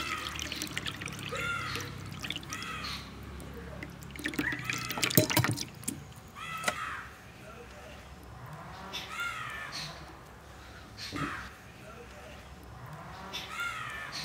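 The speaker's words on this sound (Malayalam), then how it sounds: "പിഴിഞ്ഞെടുത്ത പുളി ഇതിനകത്തോട്ട് ഒഴിക്കുവാണ്" Squeezed tamarind juice is poured into a vessel for puli inchi, a soft trickle and dribble of liquid, faint and close, while crows caw repeatedly outdoors.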